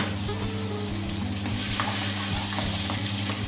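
Onions sizzling in a hot pot with cumin while cooking pulao, a dense continuous frying hiss with occasional stirring scrapes and a low steady hum underneath.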